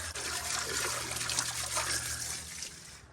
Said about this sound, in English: So now I've turned the hose up and I'm going to keep it off of the coil